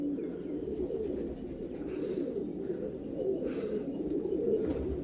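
Golden-eyed pigeons coo steadily and softly, a low throaty murmur layered from about fifteen birds, with faint rustling in the background.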